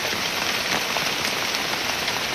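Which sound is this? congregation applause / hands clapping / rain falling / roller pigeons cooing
rain falling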